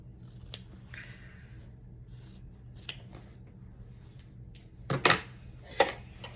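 Scissors snip through fabric for a boxy pouch in a few close, crisp cuts, a quick pair of snips then another, against a quiet room with no talk.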